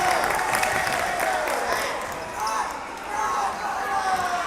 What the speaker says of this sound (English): Crowd is getting into it.